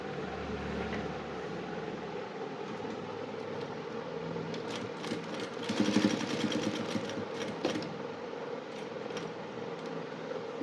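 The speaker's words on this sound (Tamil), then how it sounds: "இப்பொழுது துணியும் தைக்க போகிறோம்" Electric sewing machine stitching fabric during a tailoring lesson, a steady close motor whir with a rapid needle chatter that swells briefly mid-way, no talking.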